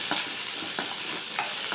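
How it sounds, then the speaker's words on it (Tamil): Cashews stirred and lightly fried in a pan for a Kerala-style chicken salna, a short burst of soft sizzling with a few distinct spoon scrapes, close and continuous. "முந்திரி சேர்த்துட்டு லேசாக கிளறி விடுங்க."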